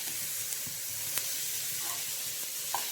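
Green chillies and half a capsicum sizzle quietly in a pan for vegetable white pasta, a soft, even frying hiss with a few faint clicks and stirs, with no talk.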